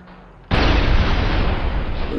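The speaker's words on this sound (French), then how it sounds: "qu'est-ce qui vient d'exploser exactement? Ok, c'est la bonbonne de gaz" A gas canister blows up in the video game Goat Simulator, a sudden loud blast that cuts in after a quiet moment and rolls on as a heavy, sustained roar.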